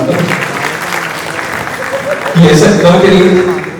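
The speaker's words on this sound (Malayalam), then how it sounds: "ഈ രണ്ട് പിള്ളേർ അവർക്കൊരു കൈയടി കൊടുക്കണം" Audience applause rings out at a film audio launch for two kids on stage, a steady crowd clapping that swells louder toward the end while a voice keeps talking over it.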